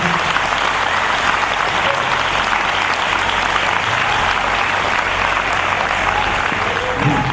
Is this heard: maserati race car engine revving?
no